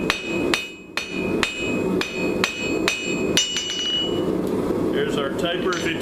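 Hammer blows ring out on hot steel over an anvil while a taper is forged for an S-hook, about eight sharp metallic strikes at an uneven pace, loud and close, and the ringing fades toward the end.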